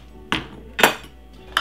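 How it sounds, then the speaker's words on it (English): A knife cuts French toast in half on a plate, giving three sharp clinks and scrapes of metal on the plate, spaced apart and fairly close. "Basically, just cut it into half like this."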